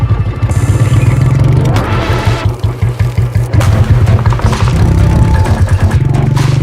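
A Royal Enfield Bullet with an under-square single-cylinder engine thumps close by, a loud, rhythmic low pulsing that briefly speeds up and clatters before settling back into its steady beat.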